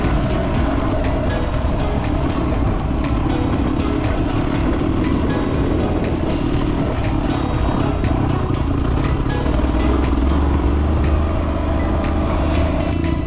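A dirt bike rides a rough, technical trail of loose rock and washouts near Challis, its engine droning steadily and close throughout, with rattling and clatter from the rocky ground beneath.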